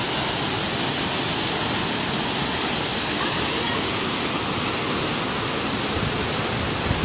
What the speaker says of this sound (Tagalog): Ang ganda naman kasi ng falls.